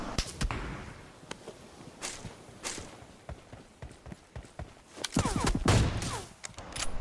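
Rapid, sharp gunfire cracks from an AWM sniper rifle in the PUBG Mobile game, several loud shots spread across the clip with a dense burst of reports near the end, and no talking.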